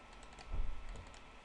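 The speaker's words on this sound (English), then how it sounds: "Just double clicking on the fields as I go" A computer mouse clicks softly while a report is set up in Microsoft Access 2013, giving a few faint, quick clicks close by in a quiet room.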